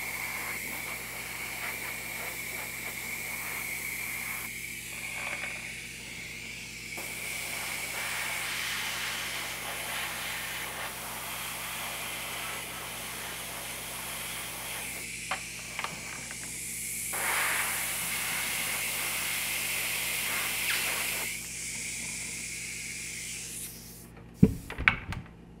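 Steady hiss of an airbrush spraying orange paint onto a quarter-scale Aquaman figure, continuous with brief pauses and a couple of sharp clicks near the end, close and even in level.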